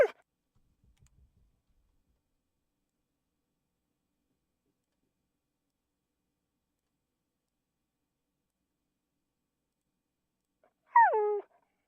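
A single short dog whine sound effect for a game, a brief falling whimper that comes at the very end after a long stretch of near silence.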